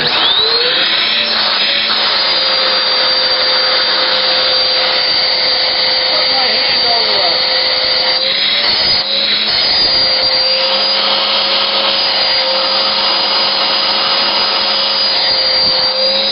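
A Shark vacuum cleaner runs with a loud, steady, high-pitched motor whine and rushing airflow, unbroken for the whole stretch.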